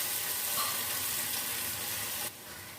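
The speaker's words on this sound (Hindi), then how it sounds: "लहसुन और प्याज को फ्राई कर लेते हैं।" Garlic and onion frying in a pan, a continuous even sizzle heard close and moderately quiet, dropping in level near the end, with no speech.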